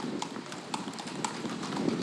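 Horse hooves clip-clop at a steady walking rhythm on a Philadelphia street as urban riders pass, the crisp strikes landing about every half second, fairly close and clear over a dull background hum.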